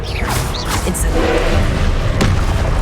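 Incendio fire spell cast in Hogwarts Legacy: a dense whooshing burst of flame with low booming thuds, steady and loud throughout, a sharp crackle near the end, with game effects layered over it.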